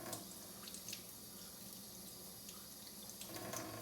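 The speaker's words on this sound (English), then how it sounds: "Rinse it off really well. Make sure to get all of the soap residue off." Hands and a small item rinsed under a running kitchen tap after soaping, a steady close stream of water splashing into the sink, unbroken and fairly quiet, with no talking.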